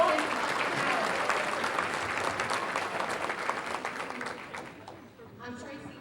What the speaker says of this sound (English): Let's give them a round of applause for a great hospitality